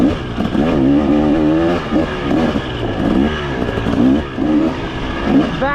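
A 2023 KTM 300XC dirt bike is ridden at Peach Valley, its loud, close engine revving up and down in rapid surges as the throttle opens and closes.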